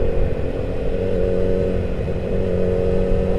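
Yamaha FZ1N litre motorcycle heard while riding, a steady low engine drone with wind rumble at a constant cruising pace, loud and continuous with no talk.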